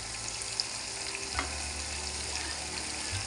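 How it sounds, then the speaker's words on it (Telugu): Fish frying in hot oil in a pan, a steady soft sizzle with faint crackles throughout. "ఇలా ముందుగా వేడెక్కింది కాబట్టి తొందరనే ఫ్రై అవుతుంది."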